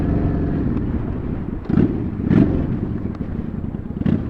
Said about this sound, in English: the little blip I do as I change down gears